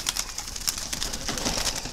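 Spotted doves cooing close by, several soft repeated calls in a quick rhythm over a busy bird-filled background, with no talking.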